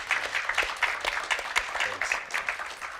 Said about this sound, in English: one more round of applause for the Props and Interactive team from Diablo 4